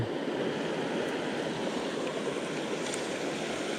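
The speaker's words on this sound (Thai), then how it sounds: "ถึงแนวน้ำตก" Rushing water at a waterfall roars in a dense, continuous wash, loud and unbroken throughout with no voices.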